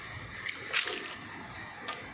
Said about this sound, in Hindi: इस पर पानी गिराते हैं।